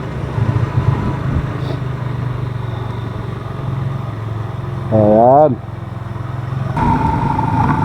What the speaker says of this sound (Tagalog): ito pala yung motor niya, oh